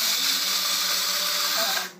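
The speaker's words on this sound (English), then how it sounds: "into my coffee grinder" A small electric coffee grinder, used as a spice grinder, whirs steadily as it grinds herbs and fennel seeds, a close, loud, bright buzzing hum that cuts off at the end.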